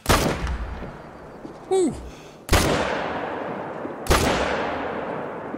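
Rifle shots fired at a bull in the hunting game Call of the Wild at Layton Lakes: three loud, sharp gunshots spaced over several seconds, each with a long decaying echo, with a brief whoop of a voice between the first two.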